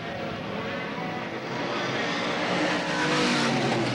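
Limited late model race cars roar down the backstretch at Selinsgrove Speedway toward turn three, a loud, continuous dense engine drone with a slowly shifting pitch as the pack passes, with no talk.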